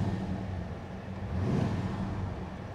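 1970s Leyland P76 engine idling, a low steady rumble from the exhaust that stays fairly even, swelling slightly midway as the revs lift briefly before settling, with no talking over it.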